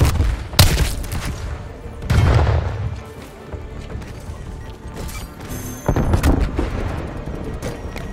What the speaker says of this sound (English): Semtex grenade.